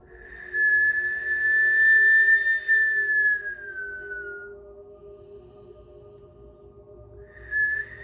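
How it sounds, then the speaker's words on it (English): A long, airy whistled tone on the breath, holding steady then fading, followed by a second brief whistle a few seconds later. "Deep breathing, whistling."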